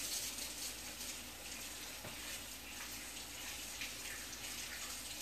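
A kitchen tap runs steadily for hand washing, a constant close hiss of water throughout, with a brief spoken word over it.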